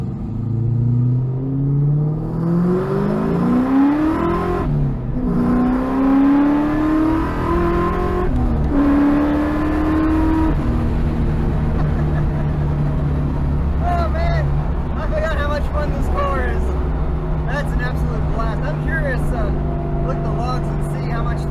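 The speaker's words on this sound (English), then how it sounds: "I feel like I need to do at least a small second gear pull." A 2003 Ford Mustang Cobra builds revs in a second-gear pull. The engine note climbs loudly and repeatedly, then settles into a steady, rumbling drone heard from inside the car.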